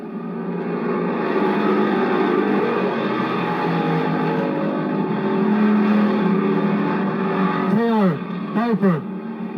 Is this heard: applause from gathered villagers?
no